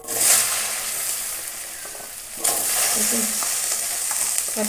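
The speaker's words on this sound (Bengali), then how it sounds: "ওই তেলেই কচুর মুখিটা ভেজে নেব" Small taro corms fry in hot oil left over from browning hilsa fish, giving a steady close crackling sizzle that surges louder midway, as if more pieces hit the pan or get stirred, with no talking.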